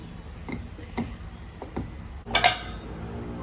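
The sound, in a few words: stirring sweet sheera (rava kesari) with ghee in a pan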